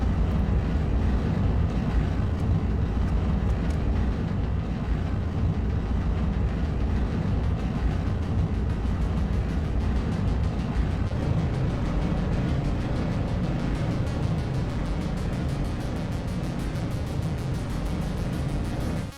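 Rocket engine roaring in Kerbal Space Program as it throttles back up, a dense continuous rumble, loud and steady throughout, with no talk over it.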